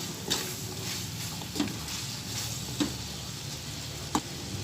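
Sliced carrots being stirred into Chinese biryani frying over a low flame: a steady soft sizzle broken by four evenly spaced knocks of a spoon against the pot, with no talking.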